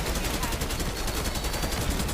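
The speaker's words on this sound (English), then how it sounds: "AK-47." Rapid AK-47 gunfire in Black Ops 6 Zombies, a steady sustained burst of shots running loud and close for the whole moment with no pause.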